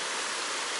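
A creek on the Foothills Trail in Gorges State Park rushes toward a lake, heard as a brief, steady wash of flowing water with no voices.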